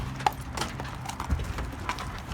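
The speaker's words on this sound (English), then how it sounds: "Baby horse." A foal's hooves clip-clop unevenly at a horse show, a few close, irregular steps over a noisy outdoor background.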